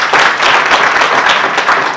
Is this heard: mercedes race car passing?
no